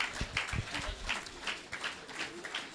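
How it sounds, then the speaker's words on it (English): An audience at a public pharmaceutical lecture claps for the keynote speaker, a brief, uneven burst of hand claps at moderate level with some voices mixed in. "Another rousing applause for our keynote speaker."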